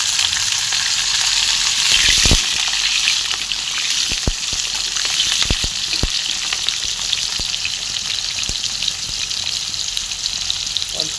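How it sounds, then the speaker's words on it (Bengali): Potatoes frying in hot oil that was already used for frying kofta, a loud continuous sizzle throughout with a few sharp clicks and taps of a spatula against the pan, close up and with no talking. "আলুটা লাল করে নেব"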